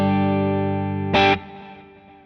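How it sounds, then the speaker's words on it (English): A single electric guitar chord rings out through an amplifier on a clean setting and slowly decays, with a short scratchy strum partway through. "Here's the sound of the amp just clean."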